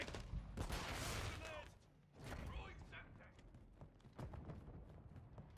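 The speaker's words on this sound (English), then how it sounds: "I'm taking fire." Rapid bursts of video game gunfire crackle and thump in quick succession, loud and close, with sharp impacts and short pauses between volleys, while a voice talks over the action.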